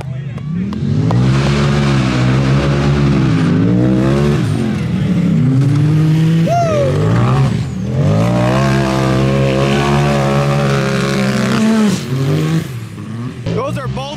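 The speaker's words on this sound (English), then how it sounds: "that Can-Am has got a huge turbo on it. You can just hear it spooling." A turbocharged Can-Am side-by-side racing, engine revving and rising in pitch as the big turbo spools, loud and close throughout with shifting tones while people talk over it.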